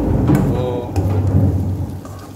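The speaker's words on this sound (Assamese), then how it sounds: "বতৰে গাজি দিছে আপোনালোকে হয়তো শুনা পাইছে চাগে" Thunder rumbles low and heavy during steady rain, the dense patter of falling drops continuing throughout as the deep roll swells near the middle.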